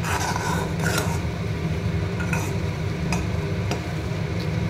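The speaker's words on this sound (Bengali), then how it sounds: "কেশুত পাতা ধীরে ধীরে লোহার কড়াইতে আমি ফোটাচ্ছি যতক্ষণ না ব্রাউন হয়ে যায়।" Eclipta, curry and neem leaves fry slowly in oil in an iron wok over low to medium heat, giving a steady sizzle with a few sharp clinks and scrapes, close and continuous.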